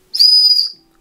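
An old broken figurine whistle found while mudlarking is blown once, giving a single loud, shrill, steady tone that lasts about half a second before stopping abruptly.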